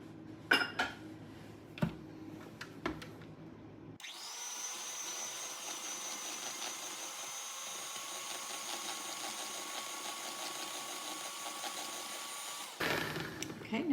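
An electric mixer beating room-temperature butter with eggs for a cake batter starts with a few clinks, then runs as a steady loud whir for about nine seconds before stopping, followed by more utensil clatter.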